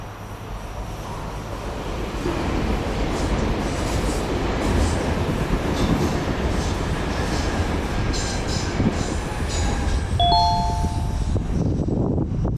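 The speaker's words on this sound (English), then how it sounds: "I'm waiting for the subway to pass." A Stockholm subway train rumbles past in a long, steady roar, with brief high metallic squeals from the wheels near the end.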